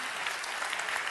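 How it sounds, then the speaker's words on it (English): An audience breaks into applause, a brief, fairly faint burst of clapping heard from a distance. "I think this is worth an applaud"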